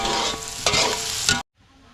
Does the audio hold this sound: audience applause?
no